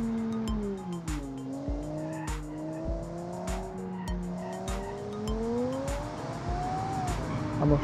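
Tires squeal and skid on a car with failing, smoking brakes in the BeamNG.Drive racing game, a sustained wavering screech over engine roar with repeated sharp bursts, loud and close.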